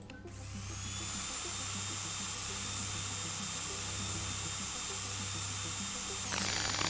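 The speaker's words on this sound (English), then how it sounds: "It was just drilling in a metal sphere." A steady, loud mechanical drilling whine into a metal sphere in the game Stories Untold, starting within the first second, holding constant for about six seconds, then cutting off near the end.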